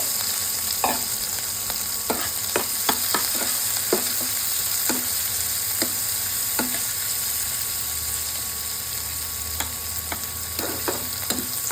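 Onion, garlic and green chillies frying in oil left from frying fish, a steady sizzle punctuated by repeated sharp clinks and scrapes of a spatula stirring in the pan.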